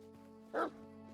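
A single short dog bark in the Pathfinder: Kingmaker role-playing game, clear and fairly close, standing out over a quiet sustained musical drone.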